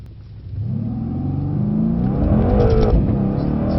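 Mercedes C63 S AMG accelerating hard in second gear on a race track with less traction control, a deep engine roar building steadily in pitch and loudness from inside the cabin, with no talking.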